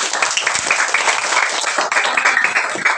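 A classroom of children clap their hands together at their teacher's prompt during an economics lesson, a dense, bright burst of claps filling the room at close range without pause for about three seconds.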